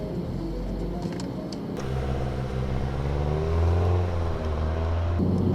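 Car engine accelerating on a racing circuit during driver training, a low rumble that rises into a climbing, revving drone with rising pitch, close and steady after a quieter opening.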